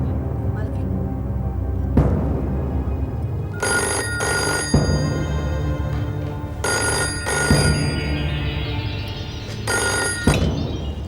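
A telephone bell rings in several repeated bursts, loud and close, with a low hum and some background noise between rings.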